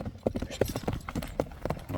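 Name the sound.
horse hooves clip-clopping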